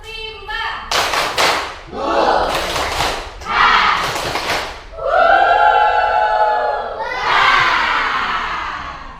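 A group of schoolchildren in a classroom performs the 'tepuk rimba' clapping chant: loud, rhythmic bursts of claps and thumps come in sets, then turn into shouted, chanted voices near the end.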